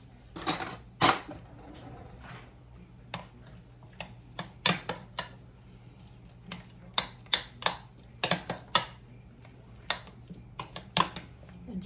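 Utensil clinking and scraping against a pot while butter and bacon grease are stirred into mashed potatoes, a series of close, irregular taps and knocks, with no talking.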